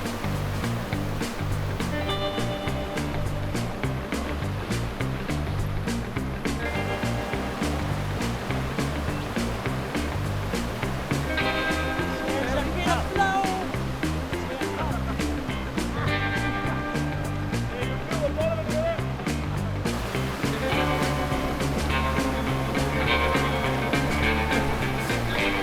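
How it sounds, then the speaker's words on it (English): Fast-flowing river water rushes and churns continuously during a 4x4 river crossing in the Pilbara, a loud steady roar of current with broad surging texture throughout. "There is some serious flow in that river"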